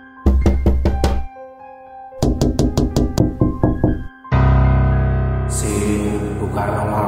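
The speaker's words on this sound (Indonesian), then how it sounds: "Suara ketukan itu masih ada dan sangat jelas terdengar." Knocking on a window: two clear bursts of sharp, loud, evenly spaced raps, followed by a sustained low droning tone with a bright high shimmer rising over it.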